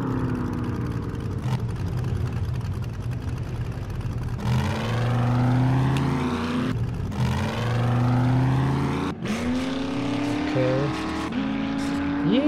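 Vehicle driving through a town in the zombie survival game 7 Days to Die, a steady revving engine with gear changes and rising pitch sweeps, loud and close throughout, with someone speaking briefly.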